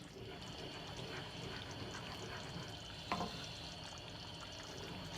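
Crawfish fat simmering in a pot for an étouffée, a steady soft bubbling and sizzling hiss that holds even throughout with one brief louder clink midway.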